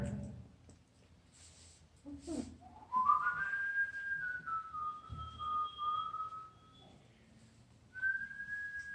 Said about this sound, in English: Seem to be intrigued by a little whistle.